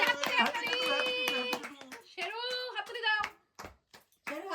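Hand claps from family at a two-year-old's birthday celebration, brief bursts ringing out amid loud singing and children's and adults' voices, then falling quiet near the end.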